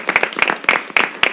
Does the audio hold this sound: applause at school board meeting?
yes